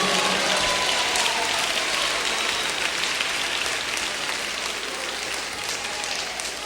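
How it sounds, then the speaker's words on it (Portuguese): A church congregation applauds during a worship service, a dense, steady wash of many hands clapping that continues loudly throughout without a break. "Mais forte as palmas para Jesus."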